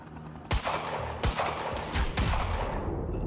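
Sniper gunfire in the video game Quantum Break, with three or four loud, sharp shots spaced about a second apart.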